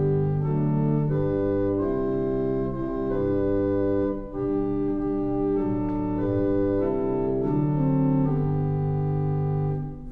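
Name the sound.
organ with unison bass 8-foot open diapason stops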